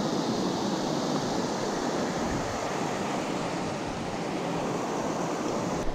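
Small mountain streams flow steadily, a dense, even rush of water that stays at a constant close level with no breaks or voices.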